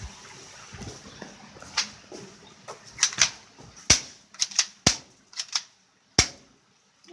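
Several sharp airsoft gun shots strike a water bag, coming as scattered cracks at irregular intervals with a few quick pairs, fairly close, with no one talking.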